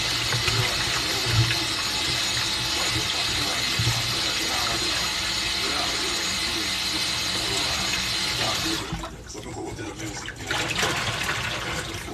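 Tap water runs steadily over chicken back being washed in a kitchen sink, a continuous close splashing hiss with a couple of soft knocks, then the flow briefly eases near the end.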